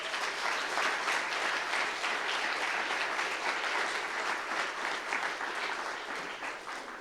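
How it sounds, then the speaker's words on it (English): A forum audience gives a sustained round of applause for ushers, childcare helpers and hosts, a dense, steady wash of many hands clapping that fades slightly near the end. "So if we could please give a round of applause to..."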